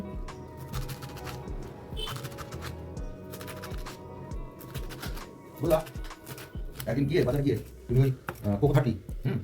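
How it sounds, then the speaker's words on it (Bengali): A knife chops leafy greens (shak) on a board in rapid, regular close taps, and a voice starts talking over the cutting partway through. "শাকগুলোকে এখন সুন্দর করে কেটে নিচ্ছি"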